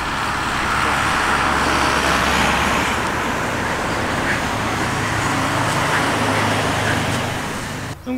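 A car passes on a road beside a roadside dog-training session. Its broad roadway rush swells and holds for several seconds, then fades away near the end, with no talking over it.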